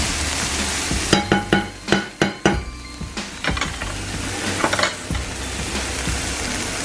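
Red and yellow onion, red and yellow peppers and green onion sizzle in a hot pan, with a quick run of sharp utensil knocks against the pan over a steady frying hiss, close and fairly loud.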